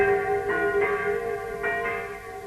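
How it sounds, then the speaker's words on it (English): Bells ring with a sustained, resonant tone, strokes swelling at intervals over a steady hum, heard from a distance. "church bells are ringing"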